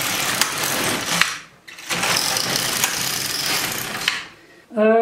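An LK150 knitting machine carriage is pushed across the needle bed to knit rows of a cardigan, two long rasping mechanical sweeps with a short pause between them, close and fairly loud, then a brief voice at the end.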